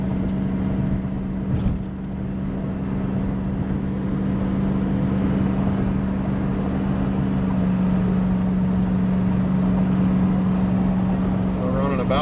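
A squarebody Chevrolet Suburban cruising on the highway while towing, giving a constant loud engine drone and road roar with a steady low hum, holding even throughout.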